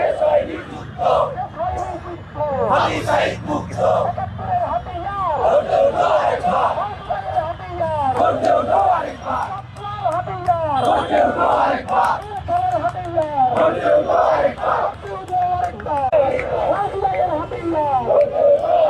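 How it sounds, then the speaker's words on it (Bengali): Protest crowd at Dhaka's Shahbag intersection, demanding justice for Hadi's killing, chanting slogans loudly and in unison, with rhythmic call-and-response swells and steady crowd roar throughout, close and dense. "শাহবাগ মোড়ে অবস্থান নিয়ে বিপ্লবী এই জনতা যারা রয়েছে তারা কিন্তু স্লোগান দিচ্ছেন"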